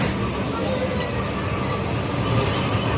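A Vande Bharat Express semi-high-speed train rumbles loudly close by as it arrives at the platform, a steady roar of wheels and rail noise for the whole stretch.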